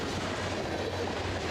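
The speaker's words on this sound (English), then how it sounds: "Train's about to go by." A full-size train rolls loudly past a railroad crossing at night, a steady close rumble of wheels and rail clatter that fills the short stretch with no talking.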